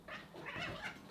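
A house cat meows nearby, a drawn-out, wavering cry with a strained caterwauling edge, heard alone.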